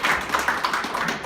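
Brief burst of hand clapping from a small audience at a meeting approving a motion, a handful of sharp claps close by and short-lived.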